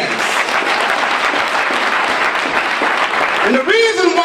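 A crowd at an NAACP Martin Luther King Jr. breakfast claps its hands in a dense, sustained burst, and a voice starts speaking over the end of the applause.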